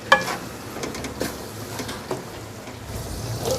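Vegetables and carrots dropped onto softened tomatoes in a hot pan, giving a faint, low sizzle with light stirring clatter and a few soft knocks, with no talk.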